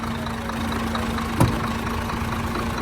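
An Isuzu 6HK1 diesel engine with a new build idles with a steady low rumble and hum, broken by one short sharp blip of revving partway through, close and continuous.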